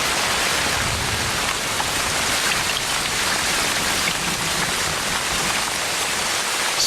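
Heavy rain pours down in the Amazon rainforest, a dense, loud, unbroken hiss of countless drops hitting foliage and ground, steady and close with no voices.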